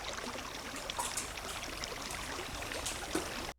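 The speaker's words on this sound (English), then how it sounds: "What it is it's just water." Recorded water sample, a single layer of steady trickling and streaming flow, continuous and close with small splashy bursts throughout, no voices.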